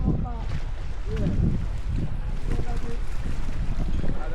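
Speedboat pulling away over open water, a low rumbling engine drone mixed with heavy wind buffeting the microphone, continuous and fairly loud, with voices talking faintly underneath.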